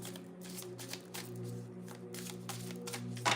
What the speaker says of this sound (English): let me really shuffle